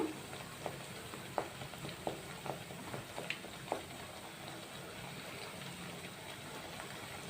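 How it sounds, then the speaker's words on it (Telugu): Gentle frying in a pan while making a rava (semolina) sweet, with ingredients toasting until lightly coloured: a low, steady sizzle broken by soft scattered crackles and pops, with no talking. "ఇవి లైట్గా కలర్ మారేంత వరకు వేయించుకుందాం."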